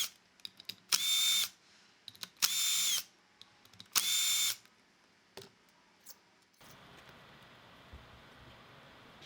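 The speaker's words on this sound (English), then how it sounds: "Use an impact drill with a 5mm hex attached to remove the retaining bolts" Three short bursts of a high-pitched impact drill with a 5mm hex bit whir while removing manifold retaining bolts, separated by clicks and clatter, followed by a low steady hum.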